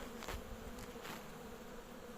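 Honeybees hum steadily around an open, crowded hive during a January inspection in Istanbul, a continuous mid-level drone with a few brief louder passes of individual bees close by, no voices present.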